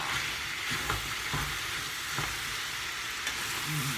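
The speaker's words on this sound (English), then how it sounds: "Let me give that a bit of a stir." Chicken Italian frying in a pan while being stirred, with a constant loud sizzle and a few scraping, clunking stir strokes spaced through it.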